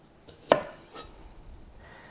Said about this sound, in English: Next, I'm going to take the onions and prepare those.